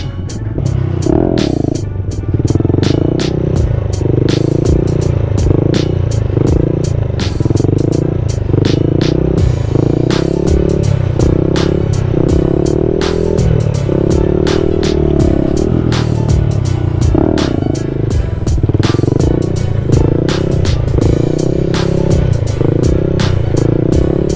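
A Honda Grom motorcycle close by revs again and again in short rising and falling bursts while doing wheelies, its small engine buzzing and throbbing steadily throughout.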